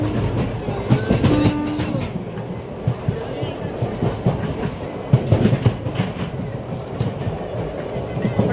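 Inside the 20605 Chendur SF Express passenger train on a family trip: steady rolling rumble with rhythmic wheel clatter and occasional knocks, plus chatter from people on board.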